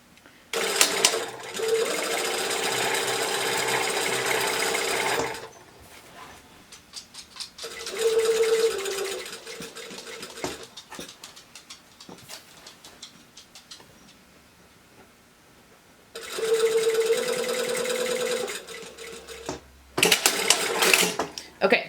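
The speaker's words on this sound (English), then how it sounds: "I'm going to start sewing at the top with a basting stitch at 5/8 of an inch." A sewing machine runs a 5/8-inch basting stitch down a skirt seam in three steady mechanical bursts, separated by quiet pauses and soft handling noises.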